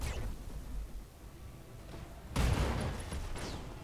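Mech weapons fire in the game RogueTech, a BattleTech mod, with a sudden burst of booming, crackling volleys breaking in midway over a rumbling low background, moderately loud and sustained.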